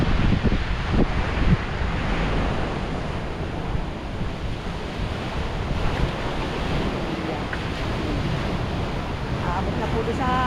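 Big typhoon-driven sea waves crash and roar continuously on a shore with coconut trees, a broad, loud surf rumble mixed with heavy wind buffeting the microphone, with brief faint voices in the background.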